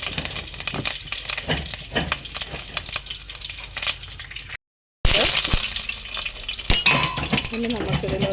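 Mustard seeds and curry leaves sizzle and spatter in hot oil in a pan, a loud crackling fry with clinks of a spoon stirring, briefly cut by a gap of silence before resuming.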